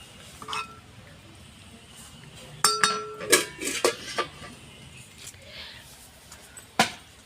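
A spoon scrapes and stirs tamarind stew in a metal pot, giving a quiet stretch followed by a run of sharp clinks and scrapes against the pot's sides, with a final loud knock near the end.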